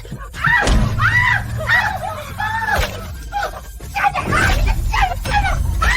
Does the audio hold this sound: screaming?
yes